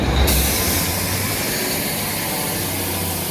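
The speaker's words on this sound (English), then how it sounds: "Very loud engine, this one as well." Loud, steady engine roar of a train at a busy station, with a deep low rumble and broad hiss that holds constant throughout, with no talk.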